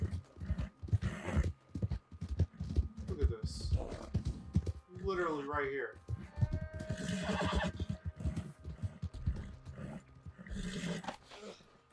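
In Red Dead Redemption 2, a horse's rapid hoofbeats gallop on while someone talks over them, and a loud, whinnying neigh breaks through midway.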